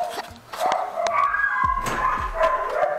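A dog barks in short sharp bursts mixed with yips and whimpers, loud and close, several barks coming in quick irregular succession.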